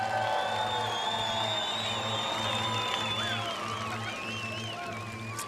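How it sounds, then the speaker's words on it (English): Crowd cheering and whooping at a UCI BMX Freestyle Park World Cup semi-final in Croatia, a steady roar under a rhythmic music beat and a high whistling tone, with no words spoken. "I can feel the crowd standing up on their feet"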